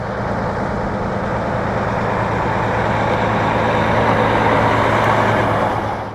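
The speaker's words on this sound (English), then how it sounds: "Several truckloads of potash leave the transload facility behind the shop as we wait in the bitter cold" Loaded trucks hauling potash rumble away from a rail transload facility behind a shop on a bitterly cold day, a continuous heavy diesel drone that swells slightly and holds steady, close and loud.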